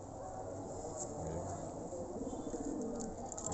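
A large blue pigeon coos softly and repeatedly at close range over a steady background hiss, with no clear talk.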